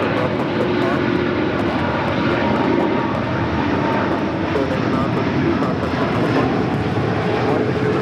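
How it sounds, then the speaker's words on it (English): An SAS Airbus A350-900 jet airliner on Flight 932 to Copenhagen at LAX, heard as a steady, dense engine roar holding at an even loudness throughout, with no pauses and no voices. "It was SAS Flight 932 heading to Copenhagen in at A350-900."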